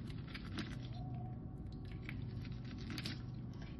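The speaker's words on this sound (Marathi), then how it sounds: "मी एक एक न काढण्यापेक्षा चाकूने पटापट कट करून घेते कॉर्नला" A knife slicing corn kernels off the cob, close and wet-sounding: a steady stream of crisp, squishy cuts with a few sharper clicks throughout and no speech.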